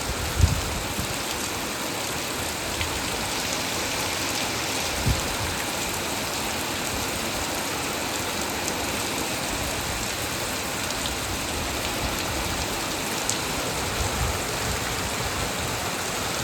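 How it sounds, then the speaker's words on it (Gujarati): Steady, heavy nighttime downpour in a Botad-area village in Gujarat: an unbroken, close roar of rain on surfaces with only a few soft drips and knocks standing out. "ધોધમાર વરસાદ પડે મિત્રો."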